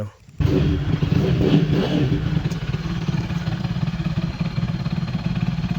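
A Rusi RC250 motorcycle engine starting for the first time with the choke up, then revving loudly and steadily up close, a continuous throaty drone with slight clatter.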